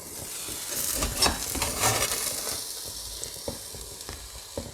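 Vegan gluten-free Wowpat patties fry gently in a pan on low heat, a soft continuous sizzle with small crackling pops, fairly quiet and heard alone.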